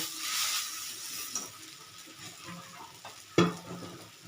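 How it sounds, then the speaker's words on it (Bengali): A lentil and shrimp paste sautéed in a pan, stirred with a soft continuous sizzle and scraping. A sharper clink of utensil on pan lands near the end, and there is no talk. "এখন ডাল আর চিংড়ি মাছ বাটাটা খুব ভালো করে কষিয়ে নিলাম"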